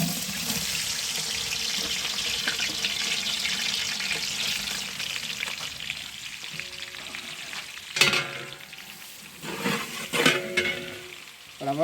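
Onions fry in hot oil and ghee in a large pot for a big batch of mutton biryani, a steady sizzle throughout, joined later by louder clatters and scraping stirs near the end, with no talking.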